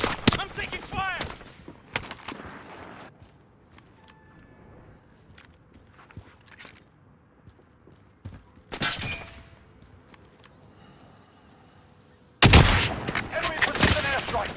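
Gunfire in Call of Duty: Modern Warfare: loud, sharp bursts of shots at the start, again midway and in a heavy volley near the end, with quieter stretches of footsteps and ambient battle noise between.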